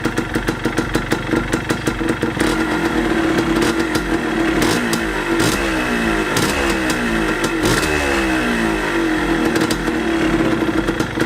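A Yamaha DT125 motorcycle idles close by with a steady, uneven two-stroke putter and sharp crackling pulses throughout.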